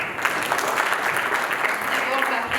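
An audience at the Miss Mauritius 50th pageant applauds an honored guest, steady dense clapping filling the hall throughout, with crowd noise underneath.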